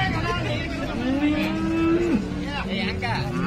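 A large cow moos once at a busy cattle market in Sangola, Maharashtra, a long drawn-out call rising and holding before cutting off, close and loud over steady crowd murmur.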